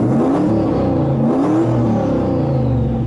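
A car engine runs loud and close just after starting, a steady thick rumble with faint whirring, heard alone with no voices.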